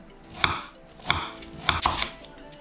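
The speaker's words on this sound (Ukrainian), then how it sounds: "Цибульку нарізаю на кружечка." A knife slices an onion into rings on a cutting board, four crisp cuts at a steady pace, close by with no talking.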